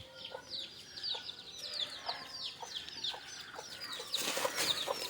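A country chicken clucks in a series of short calls over a busy background of chirping birds, fairly faint and a bit distant, with a brief louder rustle near the end.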